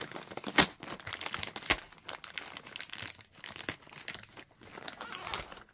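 A crinkly plastic bag of sewing trims is handled up close, giving continuous rustling and crackling crinkles with a few sharper crunches, no talking.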